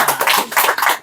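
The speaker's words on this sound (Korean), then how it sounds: "다시 한번 박수." An audience at a small community scholarship gathering claps enthusiastically to honour a prize-winning choir, the close, uneven rounds of hand-claps swelling and dipping for about a second.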